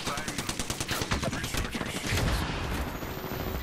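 Rapid automatic gunfire in the video game Apex Legends, a fast rhythmic burst of loud close shots that continues for several seconds before fading into a denser, rumbling mix of game noise.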